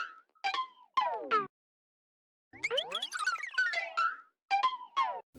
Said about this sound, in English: you get these weird pitch warping effects that sound like this